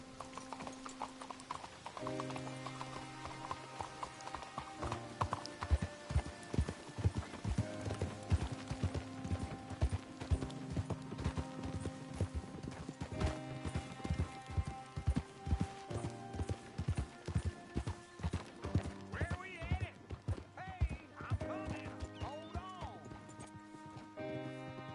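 Rhythmic clip-clop of a horse's hooves in a video game western, steady and fairly close, running under music with voices speaking over it.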